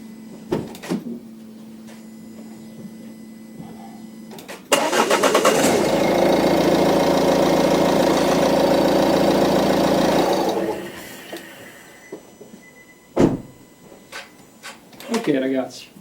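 A car engine, powered by a portable 12V jump starter with no battery fitted, cranks and catches, runs at a steady idle for several seconds, then cuts off; clicks and a few thuds come before and after.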